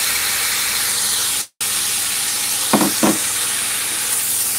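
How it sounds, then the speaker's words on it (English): Steady sizzling and hissing in a pot as callaloo with seasoning is stirred, loud and continuous with a brief dropout, then a couple of scraping spoon strokes against the pot. "And you just start to stir your callaloo."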